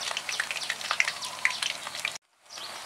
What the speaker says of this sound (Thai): ตัวนี้ก็ไปเรื่อยๆหั่นทอดไปเรื่อยๆมันจะหอมอร่อยครับ